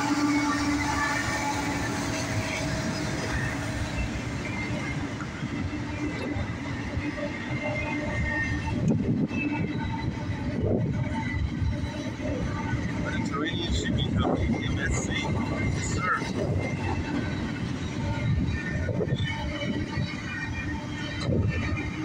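A northbound CSX doublestack intermodal freight train passes a grade crossing with a steady, fairly loud rumble and clatter of rolling cars, people talking over it throughout.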